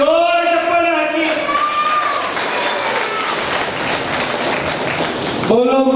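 An audience claps loudly at a mass Agnihotra fire-ritual gathering in Hassan, with about four seconds of steady applause framed by a person talking before and after.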